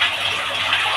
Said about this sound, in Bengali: এখানে চাপ দিলে চাপ দিয়ে ধরে রাখতে হয় তাহলে ফ্লাশ কমপ্লিট